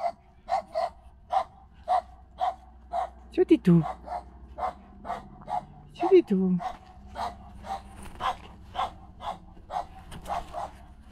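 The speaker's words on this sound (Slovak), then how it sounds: "A väčšinou ho toto ignoruje, tohto psa, čo tu šteká." A village dog that guards cows barks in a steady, evenly spaced series of sharp barks at moderate distance, with a couple of whining yelps mixed in, while a person speaks briefly.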